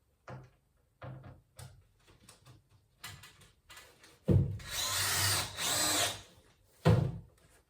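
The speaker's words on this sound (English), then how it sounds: "So I'm gonna put a few screws in there." A power drill driving screws into wood, with several short whirring bursts followed by two longer, louder runs as the screws seat, plus a thump at the end, heard close in a quiet space.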